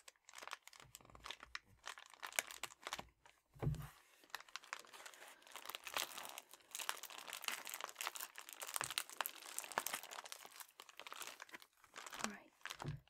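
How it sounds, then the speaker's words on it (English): Plastic Ipsy bag packaging being crinkled and scrunched by hand, dense irregular crackling and rustling with occasional soft tearing sounds, close and fairly quiet, with no talking. "we've done about 10 minutes of crinkling"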